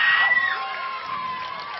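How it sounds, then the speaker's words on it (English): A homecoming crowd at a night high school football game cheers and shouts from a distance, a brief swell of voices that quickly fades to a steady murmur. "Great crowd here tonight for homecoming."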